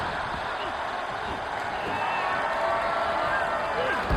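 A wrestling arena crowd roars in a steady, dense wash of cheering throughout, with commentary voices running over it.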